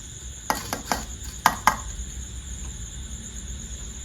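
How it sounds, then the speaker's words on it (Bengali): A cooking pot set down on a village stove, giving a few sharp metallic clanks close by in two quick clusters, then quiet background hum with no talk. "হাঁড়িটা বসিয়ে দিই"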